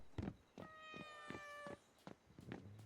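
A video game cat meows several times in a row, clear drawn-out mews with brief pauses between them, close and fairly loud over a quiet game background.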